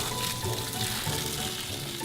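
Steady splashing and pouring of water onto a potted poinsettia, a continuous close hiss of water hitting soil and leaves.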